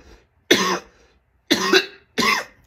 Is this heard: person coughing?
yes